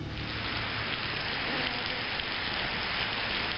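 Steady heavy rain pouring outdoors at Lucknow University in Lucknow, a dense, loud, continuous hiss of drops on surfaces with no pauses and no voices.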